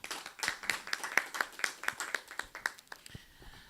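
Steady rhythmic hand clapping from a small group, about a dozen claps at an even pace, moderately quiet, tapering off at the end.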